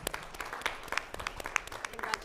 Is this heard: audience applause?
yes